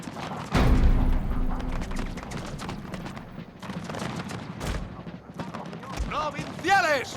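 Musket volleys in the Total War Carlist Wars mod battle, with sharp gunfire cracks and irregular scattered shots through the seven seconds, one heavy blast near the start, mixed with game voices and shouted commands.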